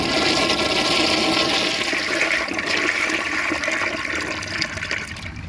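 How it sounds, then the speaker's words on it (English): A 1976 Crane Whirlton toilet gives a short flush: a loud, steady rush of water that runs for several seconds and begins to ease toward the end. "So now I'm gonna give it another short flush and see if that jet will work."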